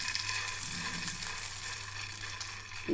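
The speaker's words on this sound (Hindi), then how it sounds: "ऑयल हमारा गर्म हो गया और अब हम इसमें एक एक करके कबाब डालेंगे।" Kebabs dropped one by one into hot oil, a steady close sizzle and frying hiss throughout, with a small clatter near the end and no talking.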